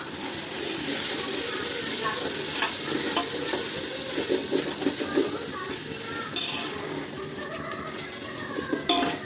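Spices and coriander powder sauté in a pan for a homemade chicken biryani, giving a steady close sizzle with repeated scraping and clinking of a stirring utensil against the pan.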